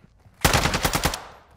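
A close, loud burst of rapid automatic gunfire, about eight shots in quick succession over under a second, sharp and dense, during a firefight at the DMZ.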